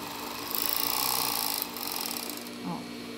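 A sewing machine stitches lace onto panties, running in a fast, close, whirring burst for about a second before dropping to a quieter mechanical hum.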